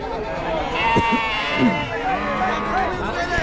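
Sheep bleat at a large roadside sheep and goat market in Chakan, several calls rising out of a busy background of crowd chatter and voices nearby.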